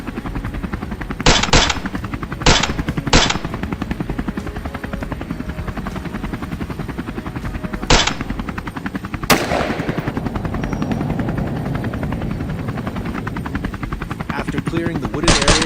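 Rifle shots crack out during a wild boar hunt from a helicopter, with several sharp, loud reports spaced over the steady roar of rotor and engine, and one heavier blast partway through.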